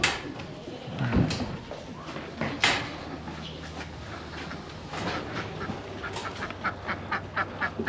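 A farm duck near a pond gives a few scattered quacks, close and moderately loud, mixed with light knocks and rustling.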